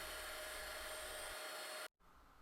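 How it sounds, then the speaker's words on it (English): Vacuum cleaner sucking up debris on an N-scale model railroad layout after track removal, a loud steady broadband whoosh that runs continuously, then cuts off abruptly near the end, leaving a quieter hiss. "I clean the area as best as I can with a brush and then a vacuum."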